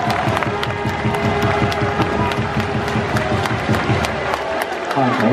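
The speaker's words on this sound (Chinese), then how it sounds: "掌声鼓励。" Applause and cheering from a live audience at a Lamigirls cheerleader performance in a stadium, a steady dense wash of clapping and crowd noise that continues throughout and swells slightly near the end.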